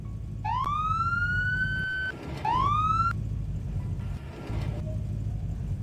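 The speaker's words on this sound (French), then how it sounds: "le gyro et un coup de sirène" A police car siren in the Garry's Mod DarkRP video game gives two short rising wails, one after the other, loud and close over a low steady vehicle engine hum.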